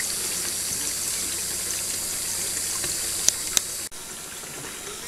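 Steady flow of water washing gold concentrates down a washer mat, a constant hissing gush with a couple of faint clicks and a brief dropout near the end.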